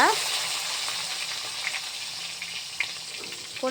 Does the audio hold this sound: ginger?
yes